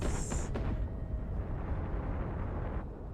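Overclocked flak and deck cannons fire in the space ship combat game Cosmoteer, a dense continuous roar of blasts with a brief high tone at the start, loud throughout and with no one talking.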